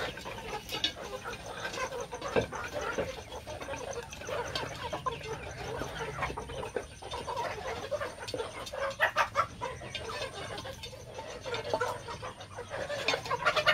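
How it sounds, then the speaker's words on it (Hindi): Australorp and desi Misri hens eat feed made from grass and wheat on a Pakistani hen farm, with soft clucking, scattered pecking and low farmyard murmur throughout, fairly quiet and close. "ये देखें जी, माशाल्लाह कैसे खा रही हैं ये मुर्गियाँ।"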